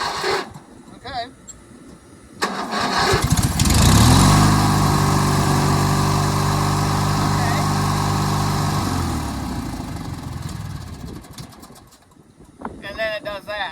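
A 1997 MTD Yard Machines riding lawn mower engine cranks, catches and settles into a loud, steady running drone close by for several seconds, then dies down as wind buffets the area.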